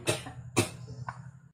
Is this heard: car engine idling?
no